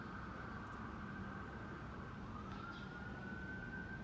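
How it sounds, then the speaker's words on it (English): Faint emergency sirens wail outside at a distance, a thin rising and falling tone over a low rumbling background, with no talk. "And there goes the sirens."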